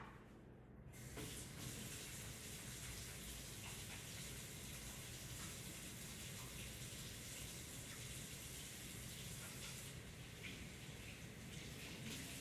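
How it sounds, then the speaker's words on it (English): Water runs steadily from a tap for handwashing with soap, a continuous broadband rush that starts after a brief quiet moment and stays even and fairly close throughout. "I'm going to go wash my hands with soap and water"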